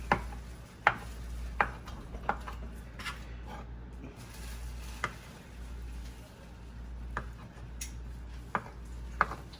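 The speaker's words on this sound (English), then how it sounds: "We're just gonna cube our eggs" A knife cubing boiled eggs for potato salad on a board: a run of sharp, irregular taps about a second apart over a low steady hum, fairly faint and close.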